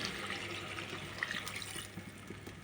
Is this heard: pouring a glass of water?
yes